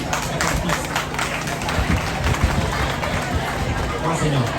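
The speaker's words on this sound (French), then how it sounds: "je voudrais que vous applaudissez les enseignants" An audience at a school government ceremony at CEM Karang Poste claps in a dense, steady wash that mixes with loud crowd chatter and shouting, with no clear break throughout.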